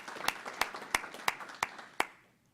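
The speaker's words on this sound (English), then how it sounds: "a little applause for all our power users" Six sharp, evenly spaced claps ring out at a steady beat, close and fairly loud, then fade into quiet.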